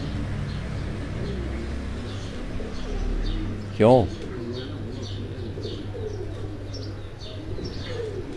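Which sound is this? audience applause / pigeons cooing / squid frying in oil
pigeons cooing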